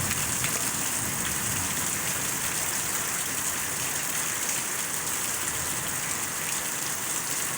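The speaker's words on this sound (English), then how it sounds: "This is a good storm. I set out some buckets to try to get some rainwater." Steady, heavy rain pours down in a continuous hiss, with water splashing and drumming on nearby surfaces throughout.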